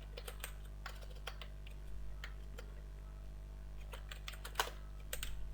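Someone types a task subject in Microsoft Outlook 2013 on a computer keyboard: sparse, irregular keystrokes with short quick runs, fairly faint over a steady low electrical hum.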